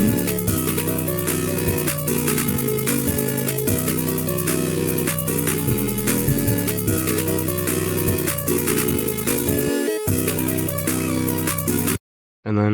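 A simple trap beat plays dense and loud, with steady hi-hats, punchy drums, deep bass and bright synth leads, briefly dropping out near the end before cutting back in.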